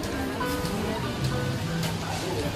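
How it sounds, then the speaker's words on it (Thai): Rain falling steadily at an artists' village in Hua Hin, a dense pattering wash with someone talking over it. "วันนี้ฝนกำลังตกครับ"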